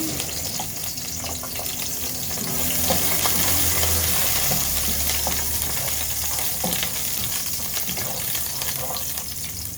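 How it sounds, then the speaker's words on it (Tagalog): Garlic being sautéed in a hot pan for pancit: a continuous loud sizzle and crackle close by, with a brief swell of frying noise midway and faint stirring. "Igisa na natin yung ating bawang."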